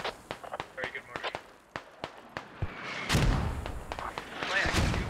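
Mortar fire in a video game: a rapid series of sharp thumps and blasts, then a dense, louder barrage of impacts in the second half, with voices talking over it.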